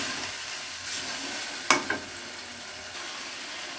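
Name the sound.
meat being stirred and fried in a pan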